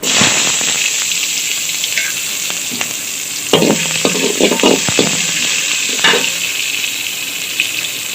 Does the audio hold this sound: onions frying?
yes